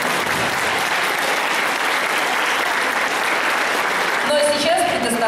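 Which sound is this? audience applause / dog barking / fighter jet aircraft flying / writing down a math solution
audience applause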